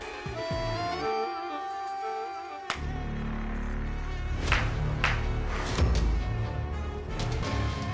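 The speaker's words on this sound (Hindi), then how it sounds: "अरे देखिए आ गए मच्छर।" Mosquitoes buzz in a steady high whine near the start, then a swarm sound grows fuller and louder under a burst of noisy activity with brief sharp hits, in a TV fantasy series scene.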